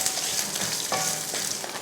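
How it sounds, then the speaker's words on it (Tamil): Ginger, garlic and shallots sautéing for mutton salna, a close, steady sizzling hiss in hot oil with a few light stirring scrapes and no voices. "அதையும் வதக்கிடலாம்."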